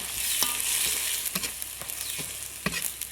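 Chillies stir-fried in a pan for a pork offal hotpot, with loud continuous sizzling broken by several sharp spatula scrapes and tosses, close up and without talk.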